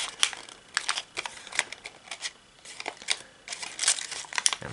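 Origami paper crumples and crinkles while being folded by hand, a steady run of close, crisp rustles and crackles.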